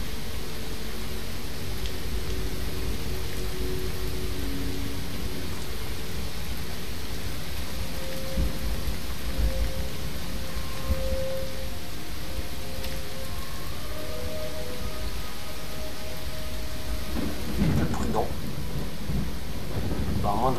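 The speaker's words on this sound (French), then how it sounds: "Irradier si effectivement c'est un orage radioactif." Radioactive thunderstorm in the video game Fallout 4, with steady heavy rain hiss and a continuous low rumble of thunder throughout, accompanied by faint tonal game sounds.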